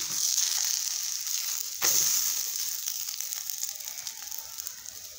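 Methi dhapate flatbread roasting in a hot pan, a steady close sizzle and crackle with one sharper hiss partway through, no voices over it.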